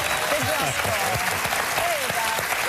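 A studio audience on a live morning talk show applauds steadily and loudly throughout, a dense wash of clapping with a voice faintly audible beneath it.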